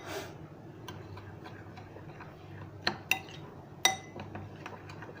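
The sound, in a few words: spoon clinking while mixing cream and sugar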